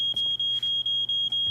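A smoke alarm in the video game Life Is Strange: Before the Storm beeps rapidly and loudly, about seven short piercing chirps in a quick, even rhythm over a low background hum.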